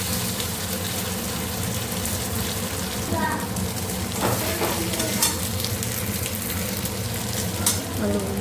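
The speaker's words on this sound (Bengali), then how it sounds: "আলুগুলোকে আগে কষিয়ে নেব।" Potatoes frying in oil in a pan, a dense continuous sizzle and crackle with occasional stirring scrapes, loud and close throughout.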